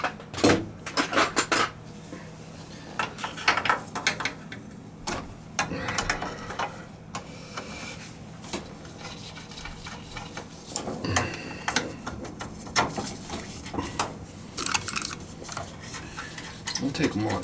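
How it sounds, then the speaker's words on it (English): Metallic clinks and ratcheting scrapes of a 9/16 wrench working loose three nuts on an oil burner, irregular bursts of close tool clatter over a low steady hum, with occasional voices in between. "I'm going to loosen up those 3 nuts so we could kick the burner. This would be 9/16, I believe."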